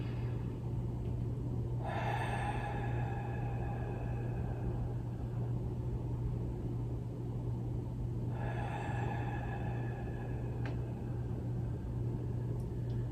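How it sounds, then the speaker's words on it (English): Two forceful abdominal exhales during a chair yoga breathing exercise, each a breathy rush a few seconds long, separated by a pause over a steady low room hum. "Can you really squeeze those exhales out with your abdomen?"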